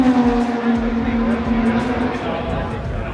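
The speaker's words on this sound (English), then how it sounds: "Here comes a flyby right now." A Honda IndyCar sweeps past during qualifying, its engine note a steady high whine that bends slightly as it passes close, set against a loud background of crowd babble and track noise.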